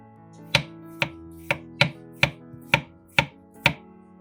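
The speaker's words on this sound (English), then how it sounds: "Chop or crush the garlic as you like." A knife chops garlic cloves on a cutting board in a kitchen, eight crisp, evenly spaced thuds at a steady rhythm, close and clear over a faint musical background with no talking.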